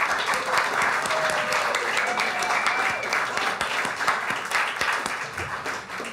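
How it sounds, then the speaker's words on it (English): Audience applause at a cabaret-style music performance in a Chicago café, steady clapping from a modest crowd lasting several seconds and tapering slightly toward the end. "let's give Christopher a round of applause"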